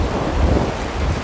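A thunderstorm with heavy rain: a dense, loud wash of downpour and a deep rumble of thunder rolling beneath it, continuous and close.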